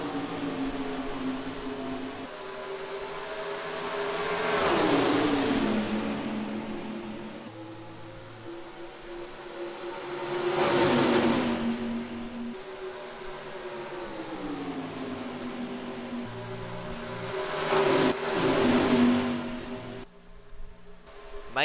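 Simulated race cars at Indianapolis in the NR2003 racing game, a continuous engine drone with three long passes that rise and sweep in pitch as the field roars by, under a steady whine of other cars.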